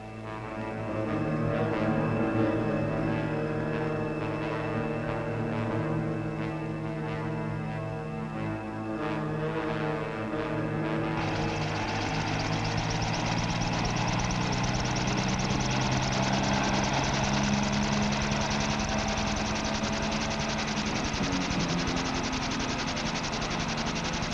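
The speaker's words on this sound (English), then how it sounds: "Wally Stewart and Captain Roger Pierce, set out on patrol in British Army helicopters" British Army helicopter engines drone steadily during a 1960s patrol over Sarawak, a continuous close mechanical hum with a harsher, brighter whine building partway through, and no voices.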